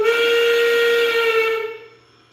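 Loud steady steam whistle from a Rio Grande K27 F scale (1:20.3) model locomotive, one sustained blast about a second and a half long that then cuts off, leaving faint hiss behind.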